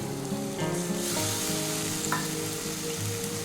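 Masala for a banana flower curry sizzles loudly in a pan as water is poured in, a steady hissing fry with faint scraping of stirring, with no one talking.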